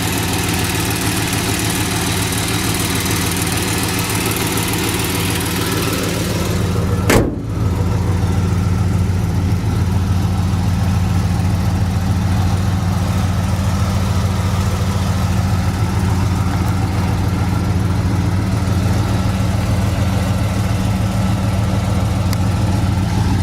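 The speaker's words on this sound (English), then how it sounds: "Engine seems to run good." A 1970 Chevy Monte Carlo, freshly tuned up with new plugs, idles with a steady, even engine rumble close by. A single sharp click interrupts it once early on, then the smooth idle carries on unchanged.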